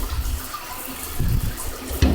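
Shower water spraying to rinse meat-jerky residue off dehydrator trays, a steady close hiss of running water with a few louder splashes toward the end.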